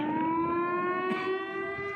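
A civil siren wails steadily with a strong sustained tone and layered harmonics. It sounds at moderate distance over faint background noise, with no talk.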